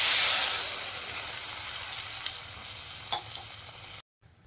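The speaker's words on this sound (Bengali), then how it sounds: "এই পর্যায়ে এখন আমি এর মধ্যে একটু জল দিয়ে দিচ্ছি পরিমাণ অনুযায়ী" Water poured into a sizzling katla fish curry masala with vegetables in a pan brings a loud burst of hissing steam that settles into a steady sizzle, with a few stirring knocks, then cuts off abruptly.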